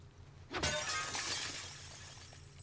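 Glass shattering in The Last of Us Part II, a single loud crash followed by a spray of tinkling shards that fades out under a low background hum, with no one talking.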